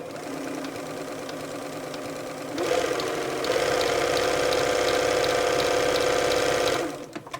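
A Bernina 930 Record electronic sewing machine runs a stitch, at first a lighter mechanical chatter. It then steps up to a steady, louder whirring hum of rapid needle strokes before cutting off near the end.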